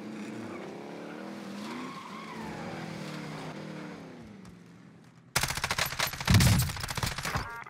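In Call of Duty Warzone, a vehicle engine whines and shifts pitch as it drives, then gives way to a sudden loud burst of skidding and crashing noise with heavy gunfire-like cracks.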